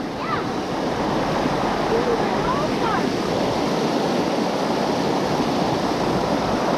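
Rushing water from waterfalls and a creek in a wooded state park, a steady broadband roar close by that fills the whole clip, with faint higher chirps of birds above it.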